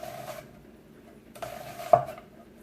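A knife slices through an onion on a cutting board, giving a few soft, close chops and one sharper knock against the board, with no talking.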